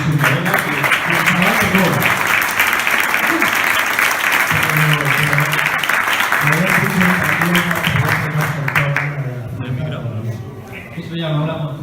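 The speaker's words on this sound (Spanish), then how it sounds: "un fuerte aplauso para todos ellos" Audience applause at a literary round table at the La Alberca book fair in 2018, a steady wash of clapping running for about ten seconds beneath someone speaking over it, thinning toward the end.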